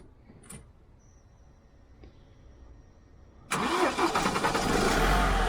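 A 2.2 diesel car engine cranks and fires after a few quiet seconds, then settles into a loud, rough, steady idle close by.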